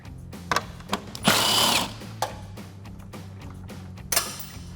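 A ratchet or power driver with a 10 mm socket on an extension works the grille bolts loose on a 2014-2015 Chevrolet Silverado 1500, with a short whirring burst amid scattered metallic clicks and clatter nearby.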